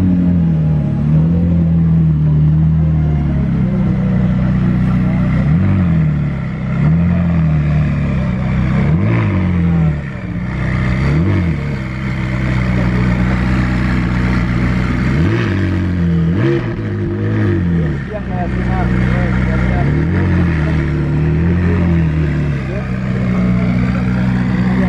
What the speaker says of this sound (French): Ça sonne bien les LT franchement.